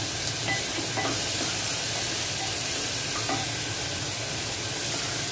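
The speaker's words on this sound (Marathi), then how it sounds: "कांदा व्यवस्थित आपल्याला ढवळून घ्यायचा आहे, नरम करायचा आहे त्याला चांगला" Onion softening in a pan for a Maharashtrian bitter gourd bhaji, stirred steadily through a constant close sizzle and frying hiss, with a few scraping clicks of the spoon and no talk.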